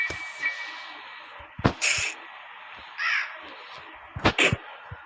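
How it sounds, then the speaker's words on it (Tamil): Crow cawing in the Granny horror video game, several harsh caws in short bursts separated by quiet gaps, clear and close. "நம்ம அந்த காக்காவுக்கு சோறு போடணும்."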